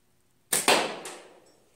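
A slingshot shot, from a new 2020 Sparrow by Fowler & Simpleshot, strikes a can wrapped in a red koozie inside a portable catch box: a sharp snap, then a close, loud metallic smack that rings and fades over a second, with a smaller knock after.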